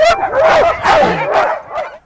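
A sled dog puppy, a husky out for only its second run, yips and whimpers loudly in a quick series of high, wavering cries close by.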